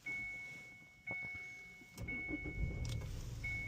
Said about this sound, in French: le véhicule démarre au quart de tour